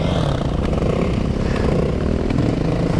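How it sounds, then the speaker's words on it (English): A dirt bike engine runs rough and loud up close, a continuous ragged motorcycle drone with uneven popping and clattering throughout, and no voices. "Is this bike like backfiring?"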